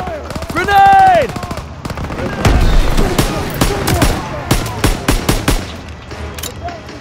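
Gunfire crackles through a World War II Call of Duty battle over a church stronghold, with repeated rifle and machine-gun bursts and heavy thumps. Voices shout and talk over the shooting.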